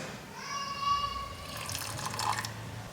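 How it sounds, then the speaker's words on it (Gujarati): Buttermilk poured into an instant corn and spinach dhokla batter, a short liquid trickle and splash heard close up. "તો હું થોડી છાશ ઉમેરી દઈશ"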